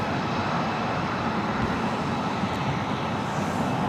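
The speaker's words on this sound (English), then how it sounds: "This is Delta Airlines 2119 coming in from Minneapolis on an A321." A Delta Airlines Airbus A321 arriving from Minneapolis on approach to land at Los Angeles International Airport, heard as a steady, broad jet roar from a hotel rooftop, unchanging over a few seconds with no voices.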